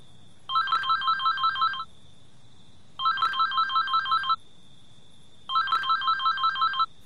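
An electronic phone ringtone rings in three bursts, each a rapid warbling trill of repeated beeps separated by short pauses, clear and fairly loud.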